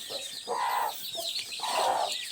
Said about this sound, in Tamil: வெள்ளைக்கோழி குஞ்சு வச்சுருக்குது